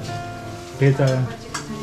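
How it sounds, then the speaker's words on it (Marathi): Phodni tempering in hot oil for a chicken dish at a Konkani baby jawal ceremony, heard as sizzling bursts that swell and fade over a steady low background hum. "इकडे फोडणी चालू आहे"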